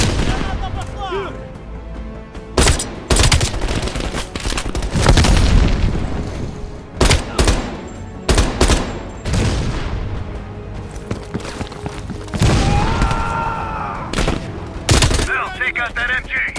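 Gunfire bursts and a booming grenade explosion in a Call of Duty Black Ops battle, loud repeated cracks and heavy blasts trading back and forth with dense rattling fire, voices calling out among the shots.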